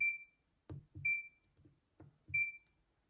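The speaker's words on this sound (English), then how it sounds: "whether you want this beep sound on like we do" Three short, high electronic beeps from a Schwinn Nautilus R616 exercise bike console sound at a steady interval, each followed by a low thump or click from the machine, fairly quiet and close.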